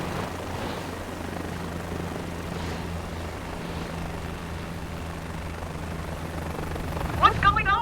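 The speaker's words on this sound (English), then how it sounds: "Alright, we are ready for takeoff." A helicopter in Microsoft Flight Simulator 2024 spools up for takeoff, its rotor and turbine making a steady, loud droning hum throughout, with a sharper rise near the end.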